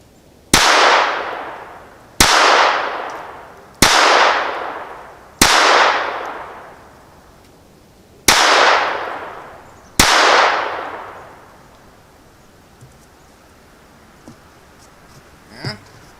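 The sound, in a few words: gunshots from a Ruger LCP II .22 pistol at paper targets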